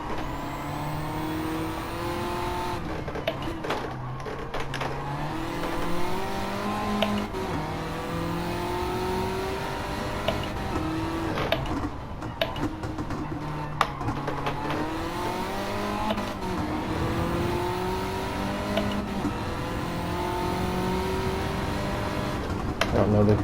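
Front-wheel-drive race car in Gran Turismo 7 on a time-attack lap, its engine revving up and down through repeated gear changes with occasional brief tire squeal, steady and close throughout.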